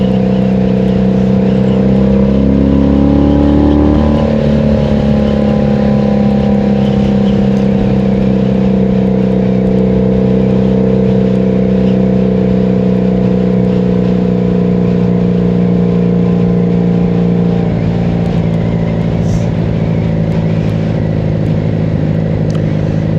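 A 1983 Honda Magna V45 750 motorcycle ridden on the road, its engine note rising sharply early then holding a steady, loud hum with wind noise, continuous and close.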